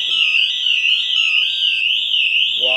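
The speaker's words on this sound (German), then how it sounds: "Alarmanlage ist jetzt scharf" A Pandora alarm system on a 24-volt truck sounds a loud, continuous warbling electronic siren that rises and falls steadily, cutting off abruptly near the end.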